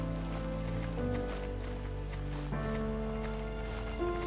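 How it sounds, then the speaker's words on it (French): Rain falls steadily as a soft, continuous patter, with sustained musical tones playing over it throughout. "il pleut, c'est génial"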